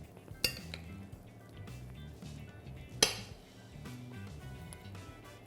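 Bulgur salad is spooned into a bowl, with two sharp metallic clinks of the spoon against the bowl standing out over quieter scraping and soft kitchen background, close and fairly faint.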